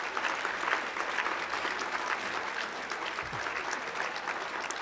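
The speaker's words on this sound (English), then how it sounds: "let's give them a round of applause here" At a Farm Rescue banquet, the crowd applauds the volunteers' spouses as they stand, a dense, continuous patter of clapping from many hands filling the hall at even loudness throughout.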